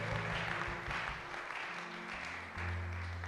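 A church congregation applauds loudly for the glory of God, a steady wash of clapping with a sustained tone underneath and a brief dip partway through.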